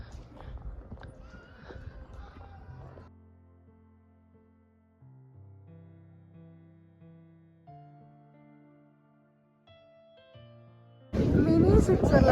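Horses at a horse parking spot in Pahalgam, Kashmir, neigh and clip-clop their hooves in the opening seconds. Music with shifting steady notes follows, and a loud, noisy burst ends the clip.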